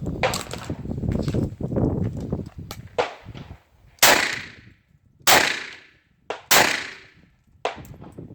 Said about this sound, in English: So I'm going to fire a couple rounds real quick, just to show you that the gun functions